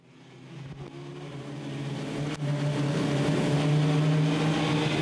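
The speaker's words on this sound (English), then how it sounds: "we got racing action on the track with the mini stock class" Mini stock race cars at Crossville Raceway accelerate on the track, their engines building into a loud, steadily rising drone that swells over several seconds and holds at full volume.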